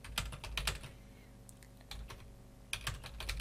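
Urdu text being typed in MS Word on a computer keyboard, heard as bursts of quick, close key clicks at the start and end with a quieter pause between them, no voice.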